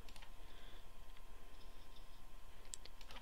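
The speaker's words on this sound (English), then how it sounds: "Click this button" A few soft, sparse button clicks on a 9-digit combination lock, faint and isolated against a quiet background with no talking.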